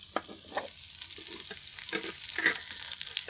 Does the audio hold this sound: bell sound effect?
no